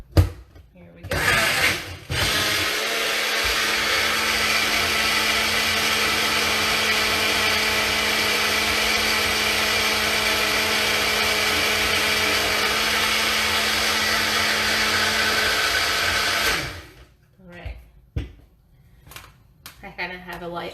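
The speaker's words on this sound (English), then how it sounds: "I kind of have a pretty loud blender." A loud countertop blender whirs through a wild plum mixture in a sustained, harsh roar for about fifteen seconds, then cuts off, with brief handling clatter before and after.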